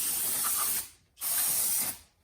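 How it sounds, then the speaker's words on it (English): Two long, loud hissing bursts of brake cleaner sprayed onto a brake rotor of a 2012 Nissan Titan, separated by a brief pause, with no talk. "you can just like spray some of this on here, spin it, spray it off"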